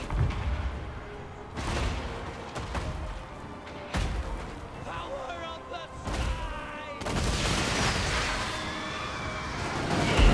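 Gunfire from massed troops in Total War: Warhammer, with a busy, sustained battlefield din of overlapping shots and bursts that thickens toward the end, while a voice talks over it.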